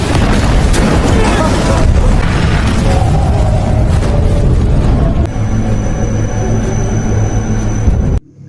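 Repeated explosions in the film Flash Over boom and rumble through a raging fire, loud and dense, with heavy mechanical clatter and a high steady tone in the later part.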